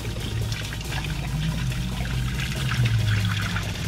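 Water pours steadily into a van's portable toilet to rinse it at a campsite in Utah, a continuous close splashing and gurgling stream lasting throughout with no talking.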